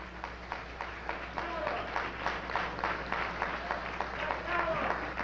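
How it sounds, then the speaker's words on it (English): A crowd claps warmly after Kwame Ture is introduced at a talk. The applause is fairly faint and distant, a steady patter running throughout, with voices mixed in. "Let's give him a warm round of applause"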